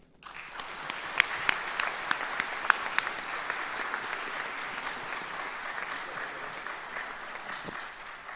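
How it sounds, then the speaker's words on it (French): Applause at a diving federation general assembly welcomes the newly elected president of the national medical and prevention commission, a steady, fairly distant crowd clapping with a few sharper claps standing out near the start, no voices over it. "que je vous demande d'applaudir"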